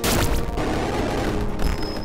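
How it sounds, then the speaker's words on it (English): Explosions in the video game Dungeon Souls, a loud rumbling burst at the start followed by a sustained crackling roar and another heavy blast near the end, with no talking. "The explosions are real."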